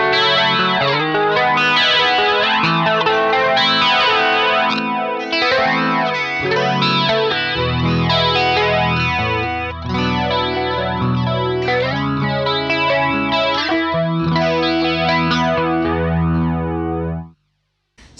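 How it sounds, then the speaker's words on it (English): Electric guitar played through the flanger effect of a Hotone Ampero Mini multi-effects unit, loud sweeping jet-like chords and notes ringing continuously, then cutting off near the end. "Let's try the normal flanger."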